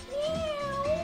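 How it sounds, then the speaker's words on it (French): A cat gives a single clear, drawn-out meow lasting about a second, close and fairly loud, with a gently bending tone and no talking over it. "Oh, tu m'as l'air d'un bon petit chat."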